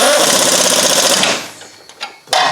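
Power impact wrench running a strut bolt down on a 2010 Nissan Altima front strut, a loud, fast rattling hammer for over a second that stops, followed by a couple of sharp metallic clicks.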